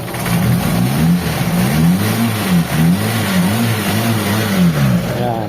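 Mitsubishi Lancer EL engine revved repeatedly in quick blips, rising and falling in a wavering pattern over a steady idle, loud and close with no voices.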